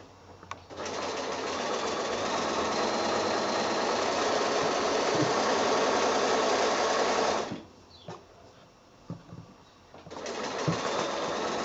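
A sewing machine stitches a quilt, running in a loud steady whir for about seven seconds, pausing briefly, then starting up again near the end.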